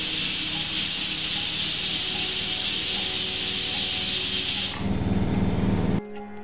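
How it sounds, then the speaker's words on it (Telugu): Pressure cooker with pongal cooking inside releases a loud, steady hiss of escaping steam for several seconds, then the sound shifts and drops away near the end; no voices. "అంతా బాగా కలిపి కుక్కర్ మూత పెట్టి 4 విజిల్స్ రానివ్వాలి"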